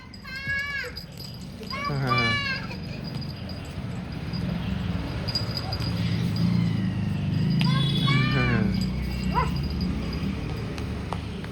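A dog plays with a toy tiger indoors, giving short yips and whimpers between bursts of people talking and low household noise.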